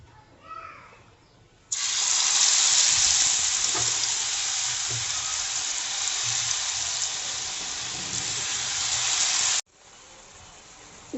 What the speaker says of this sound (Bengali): এখন আমি এক এক করে বেগুনগুলো ছেড়ে দেবো বেসনের মধ্যে ডুবিয়ে